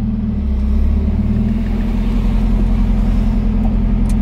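Mazda Miata engine idling in gear, a steady low rumble with a firm droning hum, close and continuous without revving.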